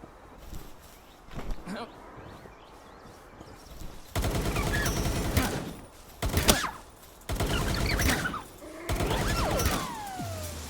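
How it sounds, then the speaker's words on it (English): In Palworld, a Pal carried on the player's head fires like a submachine gun: several loud rapid bursts of automatic fire, separated by short pauses, with quieter game sounds between them. "then we use it as a submachine gun"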